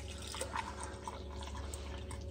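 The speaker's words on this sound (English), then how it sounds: "a lot of the coffee fucking spills down when you're pouring into the cup." Coffee pours and drips from a small, cheap coffee pot into a cup, spilling down the side; soft, steady liquid trickling and dripping sounds close by over a low background hum, with no talking.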